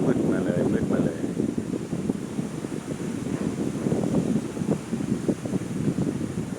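Strong wind gusts roar and buffet the microphone ahead of approaching rain, loud and steady with rushing turbulence, heard alone without speech.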